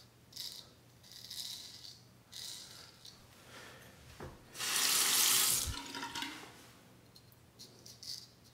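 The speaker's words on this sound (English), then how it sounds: "A final cold water rinse on the face." A faucet runs cold water for a face rinse after a straight razor shave, with quiet splashes and trickling at first and then a louder, close gush of running water for a second or two before it tapers back to dripping.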